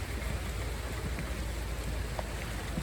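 Steady rain falls outdoors, a dense continuous hiss with scattered drips and patters close by, no voices.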